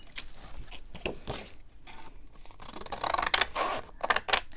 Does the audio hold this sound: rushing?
no